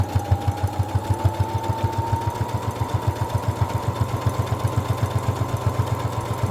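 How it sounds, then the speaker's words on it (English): A sewing machine stitches fabric for a scrap keychain, running a fast, even needle rhythm with a steady motor hum. It sounds close and continuous, with no talking. "you can actually sew with your fabric right here, lined up directly under there"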